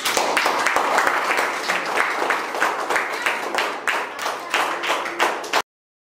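An audience claps together in sustained, dense applause that carries evenly for several seconds before stopping abruptly.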